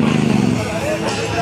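Harley-Davidson motorcycles idle and rumble at a bike week gathering before the riders' parade, a steady low engine drone mixed with crowd chatter and a nearby voice talking.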